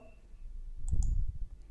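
A couple of sharp computer mouse clicks sound close together, quiet and close-up, during data entry in a library lending program, with no talking.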